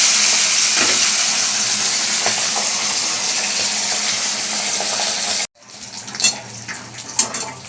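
Fish frying in a pan of oil, a loud continuous hiss and crackle for several seconds, then an abrupt drop to quieter, intermittent sizzling with a few sharper pops and spatters.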